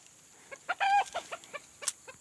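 A white pet bird with unusually long legs clucks in a quick series of short, close calls, one longer drawn-out note among them, with no talk.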